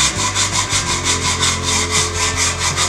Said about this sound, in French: c'est une ponceuse que j'ai achetée il y a quelques années, qui permet en fait de donner la forme qu'on souhaite